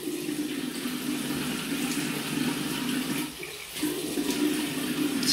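Running water rinses shaving soap off after a shave with a Feather SR shavette, a steady close splashing stream with a brief dip in flow partway through.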